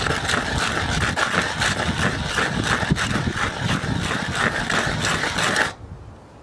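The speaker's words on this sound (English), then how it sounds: "put the pressure on it and go round and round" A metal tin is ground round and round against a rough surface to open it without a tin opener, giving a close, continuous rasping scrape with rhythmic pulses that stops abruptly near the end.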